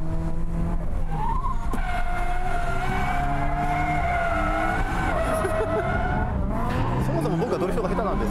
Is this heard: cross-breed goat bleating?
no